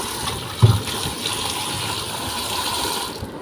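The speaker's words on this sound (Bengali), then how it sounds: "সো এখন এটা ভিজিয়ে রাখছি যতটুকু রান্না করব" Water gushes steadily over rice set to soak for hilsa pulao, a continuous close pouring rush with a small knock right at the start.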